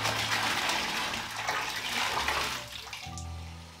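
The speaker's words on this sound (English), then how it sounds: "then all I'm gonna do is to carefully pour them into the hot water" Rose-infused water poured into a hot bath, a steady gushing splash of water filling the tub throughout, with a tap-like tone near the end.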